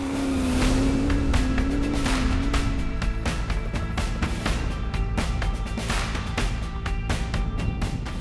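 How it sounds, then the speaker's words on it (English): Hummer rally car cruising through desert terrain at the Baja Hail 2020 rally, its engine humming steadily, pitch drifting early on, amid repeated sharp bursts of gravel and wind noise. "That Hummer cruising along very nicely indeed"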